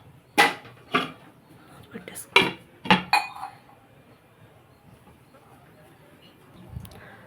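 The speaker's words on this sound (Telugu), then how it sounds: "కొంచెం వాటర్ వేసాను ఇప్పుడు మనం బాగా కలిపేసుకుని శుభ్రంగా మూత పెట్టుకుందాం" Clanking of a metal spoon stirring tomato curry in a cooking pot, then a lid set on top: a handful of sharp, close clinks spaced about a second apart, fading to quiet room tone.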